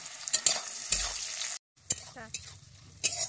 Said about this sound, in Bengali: আমি 3টা কাঁচা লঙ্কা দিয়ে দিচ্ছি।